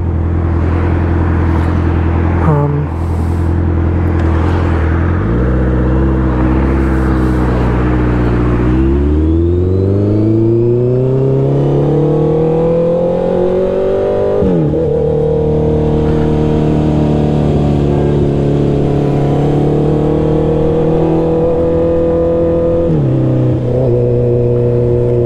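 A Honda CB650R motorcycle engine drones loudly while riding at night, revving through gear changes with rising and falling pitch, then settling into a steadier hum as it winds down, close and continuous with no talk.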